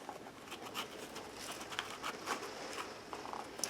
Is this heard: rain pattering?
yes